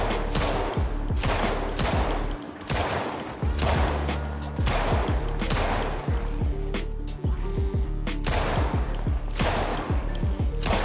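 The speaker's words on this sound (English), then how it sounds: "We did bring a pistol with us as well, so let's see how that fares." Pistol shots ring out in the Project Zomboid video game, a quick rapid series of loud sharp cracks with booming low thumps, firing in steady clusters with almost no gaps over roughly eleven seconds.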